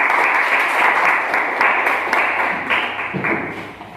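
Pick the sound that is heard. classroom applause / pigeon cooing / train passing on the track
classroom applause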